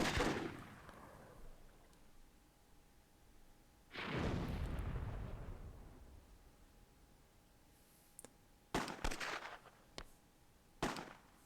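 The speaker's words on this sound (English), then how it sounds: "let the cannon do its thing." Cannon blasts and gunfire in a WWII video game: a heavy boom at the start and another at about four seconds, then a few sharp, closer shots near the end over a low steady background hum.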